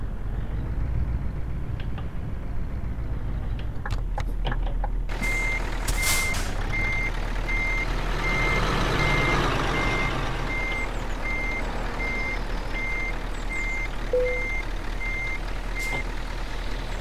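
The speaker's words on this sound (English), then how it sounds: "Let's try and park next to the truck and trailer" A reversing truck emits a steady series of evenly spaced high beeps, clear and moderately near, over a constant low engine rumble with a few brief clanks, and no talking.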